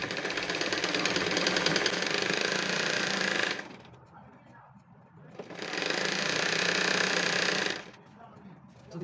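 A sewing machine stitches along the folded edge of aso-oke fabric for a hair piece, running in two long, loud, steady bursts separated by a short pause.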